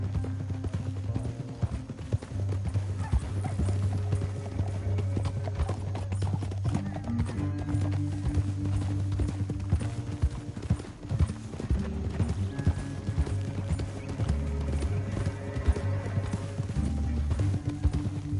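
Horses gallop in Red Dead Redemption 2, with hooves pounding in a steady, driving rhythm close by for the whole stretch. A low drone runs under them, and occasional snorts and faint voices come through.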